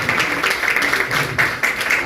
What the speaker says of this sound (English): welcome him with a round of a big applause in a louder way